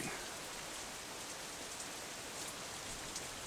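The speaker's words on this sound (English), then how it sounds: "And we have rain" Steady rain falls in Seattle in the video game Deadlight, a constant dense hiss of drops without pause, fairly quiet and even throughout.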